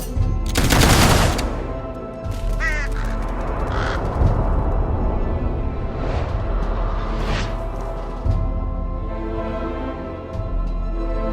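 A firing squad rifle volley in the video game Fable III, a loud burst of gunfire at the start followed by echoing shots, crow-like caws and a busy rumbling battle ambience.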